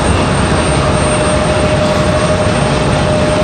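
Breeze Airways airliner landing on runway 5 right, a loud, steady broadband engine roar with a thin tonal whine, heard from nearby without a break.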